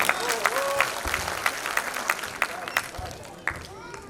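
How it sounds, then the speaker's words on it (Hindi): Audience applause at a Hindi kavi sammelan (poetry gathering) honoring Maharana Pratap's birth anniversary in Mumbai, steady clapping from a crowd with sharper individual claps standing out, voices murmuring underneath. "तालियां बजाओ यारों"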